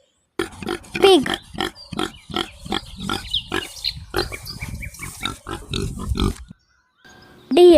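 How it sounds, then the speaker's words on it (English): A pig grunts and oinks in a quick, steady run of short, close bursts for several seconds, then falls briefly silent before one more grunt. "Pig."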